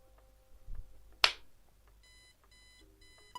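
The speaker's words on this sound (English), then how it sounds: "the alarm started to wake us up" An alarm clock rings in a video game, a series of quick electronic beeps repeating in short bursts after a sharp click, faint and alone with soft thuds before it.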